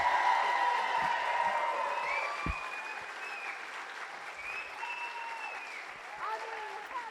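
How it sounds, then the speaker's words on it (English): A convention audience at a TV series panel gives a sustained round of applause, loudest at the start and slowly fading, with cheers and whoops rising over the clapping. "Let's go ahead and give a round of applause for Christian Kane."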